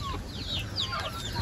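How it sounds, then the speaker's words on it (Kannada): Native country chickens cluck and chatter together at a drinking trough, several birds calling close by in quick overlapping bursts. "ನೋಡ್ತಿರ್ಬೋದು ಇದೆಲ್ಲ ನಮ್ಮ ನಾಟಿ ಕೋಳಿಗಳು"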